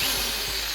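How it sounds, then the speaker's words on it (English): A power drill whirs steadily at high pitch, boring rivet holes in a rabbit feeder, loud and close, running continuously without pause. "So gonna use the drill now"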